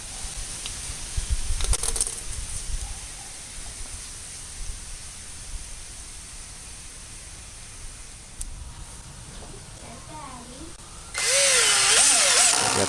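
A power tool blade cuts into wood during a workbench restoration, with a short burst of cutting early on, then a long lull and a loud, sustained close-up cut at the end.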